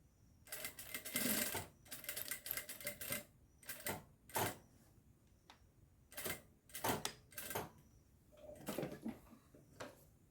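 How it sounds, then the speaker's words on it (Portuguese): A sewing machine stitches a second seam in short, rapid bursts of mechanical whirring and clatter separated by brief pauses, close and clear, with no talking. "Agora, vamos passar a segunda costura."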